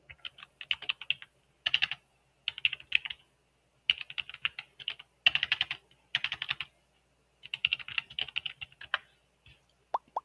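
Quick bursts of computer keyboard typing come close and clear, clustered keystroke runs separated by short pauses, ending with a couple of isolated taps.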